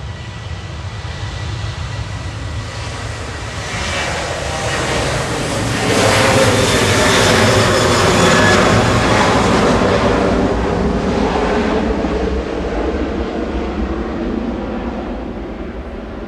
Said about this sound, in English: 2E on the roll on 23 left, heading to Pula with flight 2686.